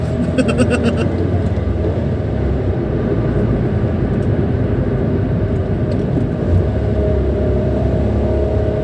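A Nissan March 1.2 litre manual car accelerates on the Cipularang toll road, a loud continuous engine drone and road rumble heard from inside the cabin, with faint brief voices.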